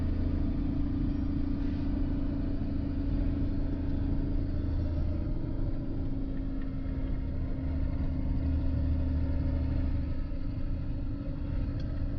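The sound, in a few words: converted camper truck driving on the road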